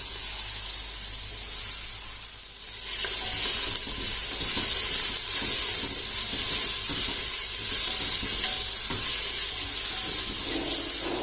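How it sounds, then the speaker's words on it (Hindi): A medium onion frying in a pan with whole cumin for mutton yakhni soup, a loud, dense, continuous sizzle and hiss that dips briefly and then returns full strength. "अब दरमियानी साइज की 1 प्याज ले लेनी है और ये इसमें डाल देनी है।"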